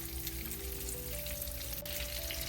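Chicken strips frying in hot oil, a steady close sizzle and crackle that holds evenly throughout with no voices over it.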